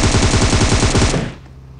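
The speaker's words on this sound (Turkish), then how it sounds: "M7 ile yere yatıp tarayacağım." A rapid burst of M7 rifle fire from PUBG Mobile, loud and close, with shots fired in quick automatic succession for over a second before cutting off into faint background.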